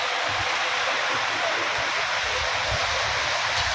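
Steady rain falls outside, heard from indoors while lying in bed, a dense, even hiss with no breaks that holds at the same level all the way through.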